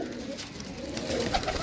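Pigeons coo softly in a brief stretch of low, throaty murmuring, close by and with no voices over it.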